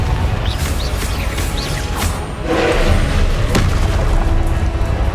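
A Confringo fire spell explodes in Hogwarts Legacy, a burst of booming blast noise with a whooshing swell around the middle, loud and close against continuous game background sound.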